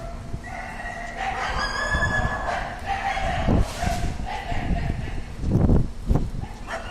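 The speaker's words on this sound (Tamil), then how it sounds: "இவ்வளோ நாய்ங்க எல்லாம் தெரு நாய்ங்க தான் எல்லாம்" Several street dogs bark outdoors in short bursts, some loud and near, others farther off, with a rooster crowing faintly in the background.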